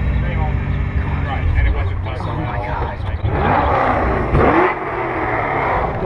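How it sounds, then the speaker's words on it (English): A stock Nissan GT-R sports car drives past at a car meet, its engine building to a loud rumbling rush that peaks and fades, with people talking excitedly over it. "another GTR is coming, guys"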